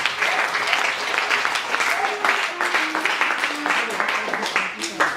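Church congregation applauding and cheering to acclaim Jesus Christ, a sustained, dense wash of clapping filling the whole stretch, with crowd voices mixed in.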